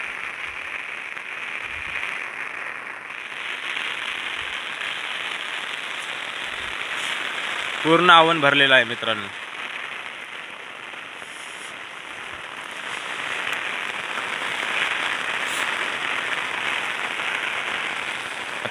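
Very heavy rain falls in a steady, broad hiss over flooded paddy fields in a village near Trimbakeshwar, and someone speaks briefly midway.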